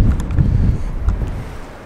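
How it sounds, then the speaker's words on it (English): Loud gusty wind in New Mexico rumbles against the microphone outdoors, heavy at first and easing slightly toward the end. "It's extremely windy today"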